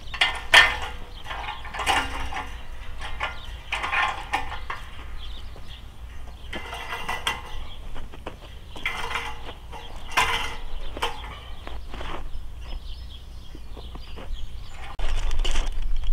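A ratchet stretcher clicks repeatedly while tensioning woven wire fence outdoors, close rhythmic bursts of ratcheting roughly every second or two, with faint bird calls in the background.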